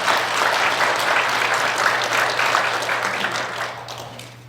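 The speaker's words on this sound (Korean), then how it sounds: "하나님께 영광의 박수 올리겠습니다" A Korean church congregation gives a round of applause at the close of an Advent sermon prayer, thick steady clapping from a crowd that tapers off slightly at the end over a low steady hum.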